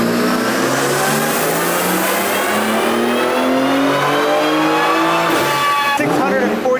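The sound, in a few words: tuned BMW with JB4 revving on a dyno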